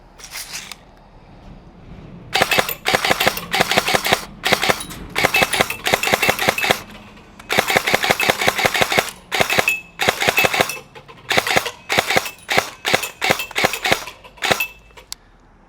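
A G&G CM16 LMG airsoft electric gun fires semi-auto, giving sharp, close mechanical clacks in irregular clusters of rapid single shots separated by short pauses, loud and with no voices.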